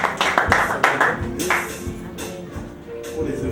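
A church gathering's audience claps for a civic-school student, close, loud, uneven clapping in bursts that thins out partway through, with a low hum underneath.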